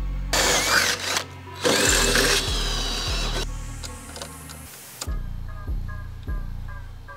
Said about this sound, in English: we'll get these last holes drilled